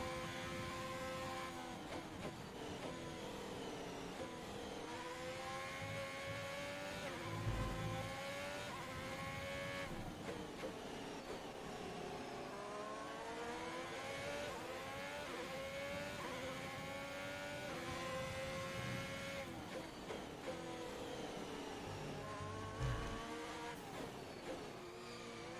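Formula 1 cars roar through an overtake in the F1 2021 racing game, a steady high-revving engine whine with gear shifts and pitch sweeps, continuous and loud throughout.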